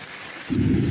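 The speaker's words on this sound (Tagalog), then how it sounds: "Kumidlat, kumulog." Thunder booms through a heavy rainstorm during flooding: a steady hiss of pouring rain, then a sudden deep, loud rumble rolls in halfway through and holds to the end.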